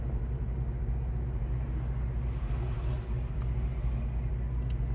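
A 1965 Pontiac GTO convertible cruises smoothly, its engine and road rumble forming a steady, low, continuous drone from inside the car, with no voices.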